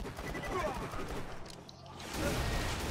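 Dense, continuous gunfire in the video game Borderlands 2, a busy wash of overlapping shots running beneath a voice that talks throughout.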